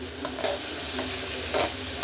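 A spatula stirs ridge gourd fry seasoned with salt in a pan, giving a brief close scrape and scuff or two over a steady soft sizzle.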